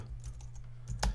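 Keystrokes on a computer keyboard, a short run of quiet clicks with a slightly louder burst near the end, close and alone without talk.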